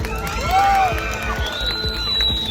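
Fans standing below a stage at a public event clap and cheer in a dense, continuous wash of crowd noise, with whoops and shouting voices rising over it.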